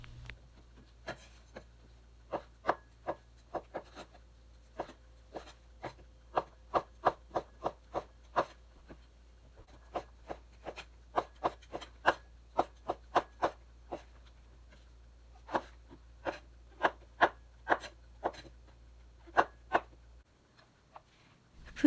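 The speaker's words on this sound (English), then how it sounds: "Slice them thinly." Knife thinly slicing king trumpet mushrooms on a cutting board, a long, steady series of crisp, close taps with short pauses between runs, no talking.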